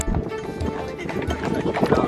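Hooves of an eight-year-old mare clip-clop steadily along the coast road of the Ring of Kerry in Ireland, an even rhythmic clopping heard under people talking.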